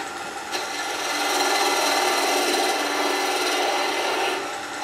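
A smaller bowl gouge cuts wood spinning on a lathe at a live woodturning demonstration, making a continuous close scraping hiss that swells slightly in the middle and holds steady for about five seconds without talk.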